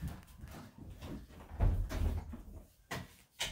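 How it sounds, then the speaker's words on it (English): A door pushed shut, with a muffled low thump near the middle and a couple of sharper knocks toward the end, set against quiet room noise and faint movement. "Shut the door, man."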